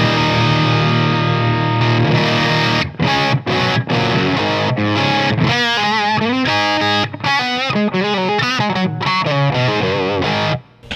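An electric guitar runs through a Xotic AC Booster pedal with its treble boosted, playing loud, distorted and bright. Sustained chords give way to choppy, rhythmic strummed notes and short breaks, with no talking.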